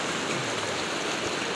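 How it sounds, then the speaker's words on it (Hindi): Fast-flowing stream water at Shahdara Point near Islamabad rushes over slippery rocks in a loud, close, unbroken roar, with no voices audible. "बहुत तेज़ पानी है भाई"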